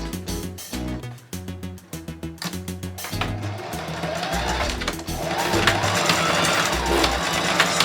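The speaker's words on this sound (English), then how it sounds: "I'm just going to stick this under the foot" Sewing machine stitching a denim scrunchie, its motor running in short rhythmic bursts with pauses at first, then settling into steady continuous stitching, close and fairly loud.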